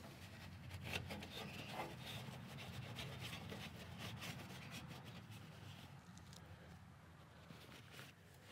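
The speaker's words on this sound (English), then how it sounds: "I'm going to take the rag, brake parts cleaner, wipe around one more time" A rag soaked in brake parts cleaner rubs and wipes around the rocker cover area of a Subaru Sambar KS4 EN07 engine, giving soft repeated scrubbing strokes, faint and close.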